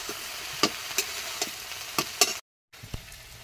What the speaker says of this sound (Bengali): ওইদিকে ছিম দিয়ে মিটুলি দিয়ে বেগুন দিয়ে সব রকম মিশিয়ে একটা তরকারি রান্না হচ্ছে